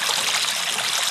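River water rushing with a strong current, a dense continuous splashing roar, close and steady throughout the short stretch with no voices.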